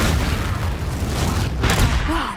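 Spell explosion from Confringo cast in Hogwarts Legacy on PS5: a dense, loud booming blast with sustained low rumble and a crackling burst near the end.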